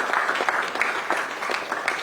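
Audience clapping at a climate diplomacy event, a steady round of applause with distinct individual claps standing out, moderately loud and without speech.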